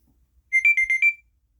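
A rapid string of about five shrill electronic beeps from a smart-glasses locator alarm, close and piercing, lasting under a second against near silence.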